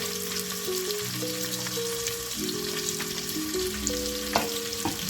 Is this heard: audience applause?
no